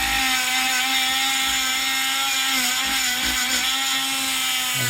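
A power-driven wire wheel spins in the recessed head of a rusty Allen bolt, producing a loud, steady whirring grind with a constant motor tone, close and continuous with no speech.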